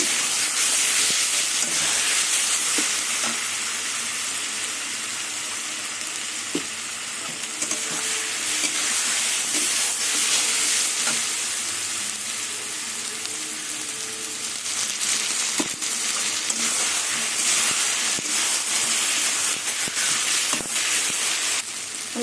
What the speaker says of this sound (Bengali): এবার আদা রসুন আর টমেটো কিছুক্ষণ কষিয়ে নেবো রসুনের কাঁচা গন্ধটা চলে যাওয়া অবধি কচিয়ে নেবো